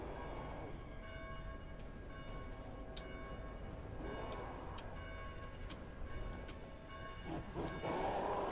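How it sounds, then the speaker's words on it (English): Church bells ring out in the Dead Island video game, repeated metallic strikes with sustained tonal overtones over a constant low game-ambience rumble, continuing steadily throughout. "Stop those bells!"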